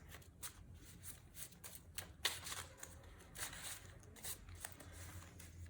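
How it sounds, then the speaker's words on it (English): Tarot cards shuffled by hand in quick, papery riffles and soft flicks, close and fairly quiet, with no voices. "one more shuffle"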